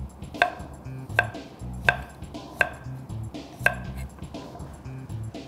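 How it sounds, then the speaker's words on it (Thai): A teaspoon scrapes the skin off a piece of ginger in short, crisp strokes about once a second, close and fairly quiet, with faint background room sound. "ขิงของเราก็ลอกผิวนิดนึงฮะเราใช้ช้อนชาช้อนขนมเนี่ยครับขูดผิวออกแค่นี้เองครับ"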